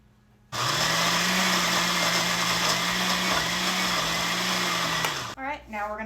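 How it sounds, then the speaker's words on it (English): A blender purees mango habanero wing sauce, starting abruptly with a loud, steady whir that runs for about five seconds and then cuts off. A voice speaks briefly afterward. "we're gonna give this a nice blend"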